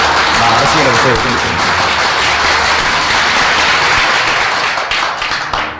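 Loud burst of crowd applause for a politician's speech in a film, dense clapping that holds steady and then thins out toward the end, with voices mixed in.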